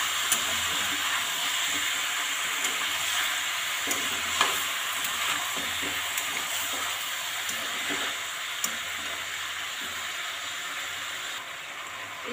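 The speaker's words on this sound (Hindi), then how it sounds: "हम इसे अच्छे से चलाएंगे।" Chicken curry masala frying in a pan gives a continuous hissing sizzle, broken by occasional scrapes and clicks as it is stirred. The sound is close and even throughout, with no voices.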